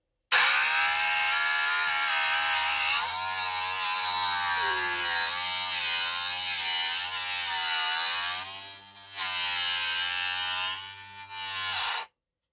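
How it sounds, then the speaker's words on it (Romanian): Electric drill whirring steadily as it drives a Parkside knife sharpening station from Lidl, a close, loud motor whine with slight pitch dips as the blade is worked, stopping abruptly at the end. "Și ar trebui acum să pornim ascuțirea."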